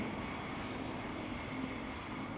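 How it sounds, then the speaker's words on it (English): A faint, distant rumble of a train, a steady low broadband drone with no clear rhythm, heard from far off. "Hear the train"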